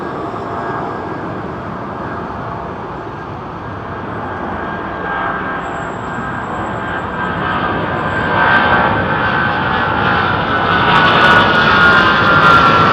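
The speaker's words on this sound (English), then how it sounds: "I think this is an American 777-2 Rolls-Royce Trent 800s. This could make a noise." American Airlines Boeing 777-200 with Rolls-Royce Trent 800 engines departing London Heathrow, a loud continuous jet roar that builds steadily and grows louder toward the end, heard alone without talk.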